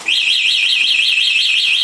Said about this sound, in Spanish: girar la biela de los pedales, activa de inmediato una sirena ruidosa